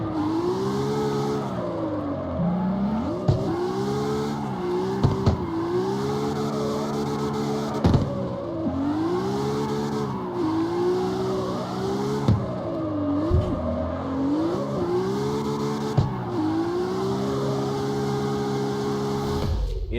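Car engine in the CarX Street street-drifting game, revving hard with repeated gear shifts and pitch drops, rising and falling continuously over twenty seconds with occasional tire squeal.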